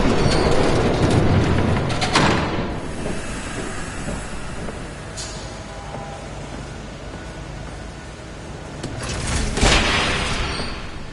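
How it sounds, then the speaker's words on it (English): A train approaches in the Batman Telltale Series video game, a loud, continuous rumble and hiss with rising roars near the start and end, heard alone without talk. "There's a train coming."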